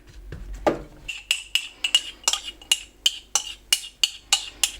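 A metal utensil scraping and clinking against a pan while onions are scooped out, a series of sharp, evenly spaced clinks close by with no talking.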